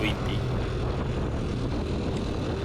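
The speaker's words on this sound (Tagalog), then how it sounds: "sobrang ingay ng makina natin. Tsaka yung wind noise" A 13-year-old Yamaha X1R 135 motorcycle engine roars at speed under heavy, rushing wind noise, loud and continuous throughout.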